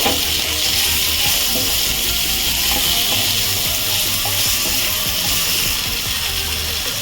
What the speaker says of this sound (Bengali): এর মধ্যে দিয়ে দিলাম পরিমাণ মতো লবণ আর পরিমাণ মতো হলুদ দিয়ে এটাকে একটু ভালো করে ভাজা করে নেব